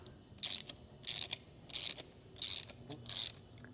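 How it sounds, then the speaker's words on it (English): Ratchet wrench and socket clicking in five quick bursts as a nut is tightened on an off-road bumpstop for a 2022 Ford, close and crisp with short pauses between strokes. "We can take our wrench and socket, I like to use the socket on the nut side and the wrench on the bolt head side."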